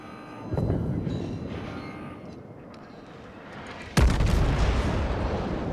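Warship guns fire HE shells in the World of Warships naval game, a muffled rumbling salvo followed by a sudden loud booming blast that leaves a sustained heavy rumble, close and dominant.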